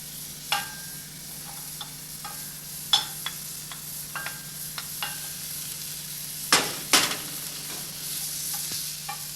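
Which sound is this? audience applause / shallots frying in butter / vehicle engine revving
shallots frying in butter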